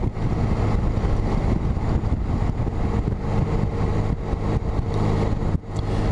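A Honda Goldwing motorcycle cruising on the road in mild morning weather, its steady engine drone blended with constant wind rush against the onboard camera.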